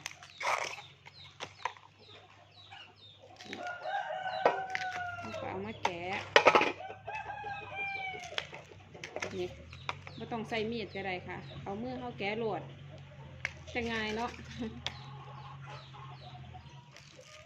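Chickens on a nearby rural chicken farm cluck and crow repeatedly at close range throughout, with someone talking over the birds.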